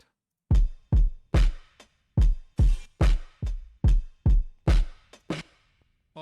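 A hip-hop beat's drums run through flanging, distortion, reverb and a limiter: about a dozen loud, crunchy, smeared hits in a driving, evenly spaced pattern with washy tails, nothing else over them.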